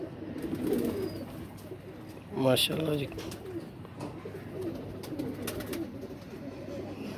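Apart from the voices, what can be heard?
Kasuri pigeons cooing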